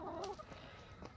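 Backyard chickens clucking in a garden with pomegranate trees, a few short, faint clucks over quiet background.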